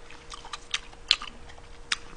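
Close, soft chewing of salmon gratin that melts in the mouth, with moist clicks and a few sharper bites scattered irregularly over quiet background.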